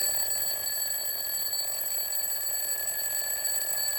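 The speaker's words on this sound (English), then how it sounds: "Every morning, I set an alarm, so I replaced it with an old-fashioned alarm clock." An old-fashioned alarm clock rings continuously with a bright, steady metallic bell tone, loud and unbroken for the whole stretch, with no voices.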